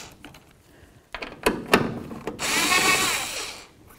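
An 8mm socket working on the tail lamp mounting bolts of a 2004-08 Ford F150, giving a few sharp clicks and knocks followed by a short whirring ratchet or driver burst, close and fairly quiet, with no talking.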